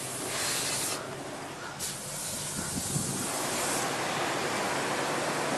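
Sea water rushes in around a truck stuck in the sand on a beach, a broad, steady hiss of surf and spray that swells and fades, with no voices.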